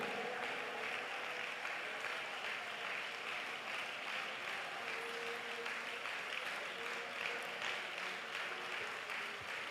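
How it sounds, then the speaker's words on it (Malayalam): A church congregation at an IPC prayer meeting claps and calls out praise loudly, a steady dense wash of applause and voices that runs continuously without a break. "ഓരോ കൈയടിച്ച് ഉറക്കെ സ്തോത്രം പറഞ്ഞേ"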